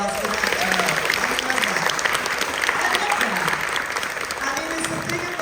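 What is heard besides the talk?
convention panel audience applause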